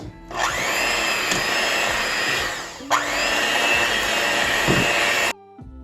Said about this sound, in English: First, you're just going to cream this with your hand mixer.